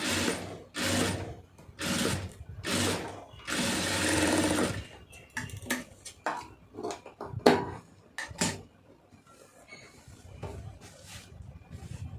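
A sewing machine stitches lace onto a round neck design, running in several loud bursts of rapid stitching over the first half, then shorter intermittent runs with clicks and pauses.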